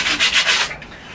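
Sandpaper rubbing back and forth on wood for a workshop stool, four or five close, rhythmic sanding strokes, then tapering off quieter near the end.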